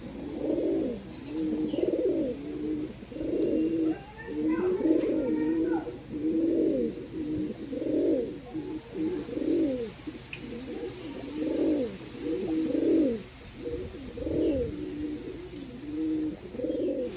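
Pigeons cooing in a repeated, rhythmic series of soft throaty calls, close and clear, with faint chirps in the background.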